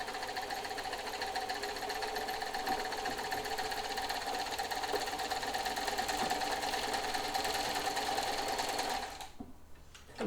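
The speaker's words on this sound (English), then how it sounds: "I'll go ahead and sew a nice row of straight stitches." Janome 642 free-arm sewing machine running straight stitches through eight layers of fabric, a close, steady rapid mechanical whirr for about nine seconds before slowing to a stop.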